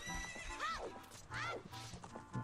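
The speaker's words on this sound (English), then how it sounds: "Good thing horses don't hurt you when they run into you." A horse in The Legend of Zelda: Ocarina of Time gives two loud, close whinnies with clip-clopping hooves underneath.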